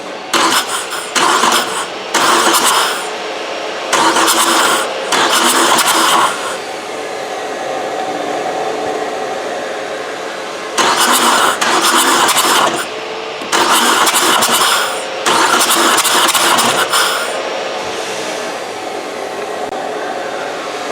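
Vauxhall Astra J with the A17DTJ diesel engine cranking repeatedly without firing, in loud close bursts of starter whirring separated by short pauses, with no voices.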